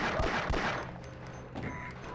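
Gunfire in the first-person shooter Half-Life, two sharp, loud shots close together at the start, followed by a rumbling decay and fainter game sounds.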